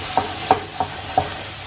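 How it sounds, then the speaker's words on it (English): A spoon stirs egg korma in a pot, giving four distinct scraping strokes at a steady, unhurried pace over a soft background hiss, close and fairly loud with no talk. "It has been another 5 minutes now, and I will re-stir it again."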